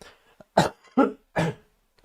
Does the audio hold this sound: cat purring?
no